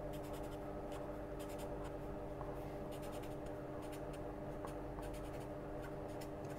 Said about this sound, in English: So again, we need to write down the formula.